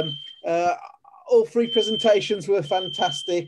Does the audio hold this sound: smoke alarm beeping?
yes